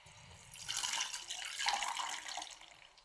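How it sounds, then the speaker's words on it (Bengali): Grape syrup pours into a pan in a soft, continuous liquid stream lasting a few seconds, quiet and close, swelling then tapering off. "এই যে আমরা এবার ঢেলে দেবো এই আঙুরের রসটা"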